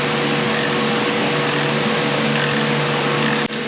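A ratchet tightens bolts on a Dana 44 rear axle fitted to a Jeep TJ, giving four short bursts of rapid clicking over a steady background hum, close and clear, ending with a sharp stop.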